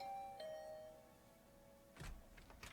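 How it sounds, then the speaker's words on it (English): Doorbell ringing in a video game, a soft two-tone chime at the start that rings out and fades, followed later by a few faint muffled thumps, quiet overall. "I had just returned to my room when the doorbell rang."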